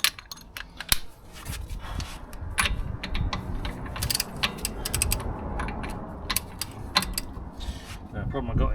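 A wrench ratchets on the rear hub nut of a Mercedes SL R230, a run of close, sharp clicks and metallic mechanical clatter over a steady low rumble, with a voice talking faintly in the background.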